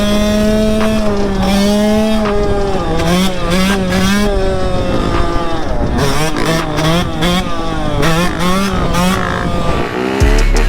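Several motocross dirt bikes roar and rev close by at a cross track, engines whining up and down in pitch as they accelerate and shift, continuous and loud throughout.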